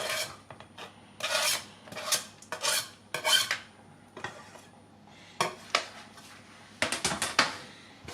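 Onions clatter and scrape in a pan with bursts of rasping, rubbing contact and light metallic knocks, irregular and close, with no talk.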